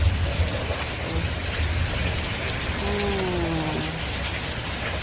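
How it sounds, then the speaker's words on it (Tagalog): Heavy rain in strong wind pours in a steady, loud roar throughout, with a faint tonal whine rising briefly midway. "Oh, I mean, yeah, heavy wind and rain."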